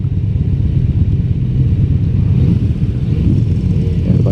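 A 2017 Yamaha V-Star Bolt R-Spec cruiser motorcycle rumbles along on the road, its engine a steady, loud, low throb heard close up throughout, without talking.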